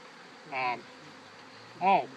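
Honeybees buzz at an opened hive. Two brief, close buzzes rise and fade, about a second apart, above a faint steady background hum.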